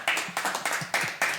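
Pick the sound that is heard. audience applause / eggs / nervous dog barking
audience applause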